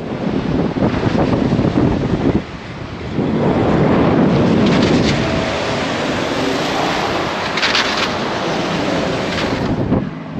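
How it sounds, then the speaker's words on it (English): Strong wind buffets the microphone in loud, roaring gusts on Teewah Beach near Noosa, easing briefly before surging again, with a faint wash of surf underneath. "It's very, it's quite windy outside"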